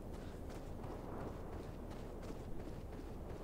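Horse hooves clip-clopping in the Tomb Raider video game, a faint, steady patter of steps under a dense, noisy background.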